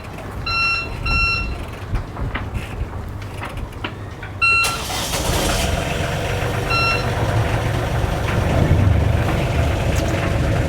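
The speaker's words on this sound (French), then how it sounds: "Pour allumer les moteurs, pareil, on est sur du moteur Volvo, il n'y a pas de clé." Volvo engines of a Fountaine Pajot Lipari 41 catamaran starting: a few electronic beeps from the control panel, then a sudden engine catch that settles into a steady low rumble, with more beeps partway through.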